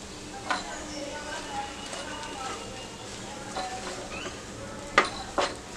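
A masala mixture is stirred and sautéed in a pan over medium gas, with a faint continuous sizzle broken by a few clinks and scrapes of a spoon against the pan.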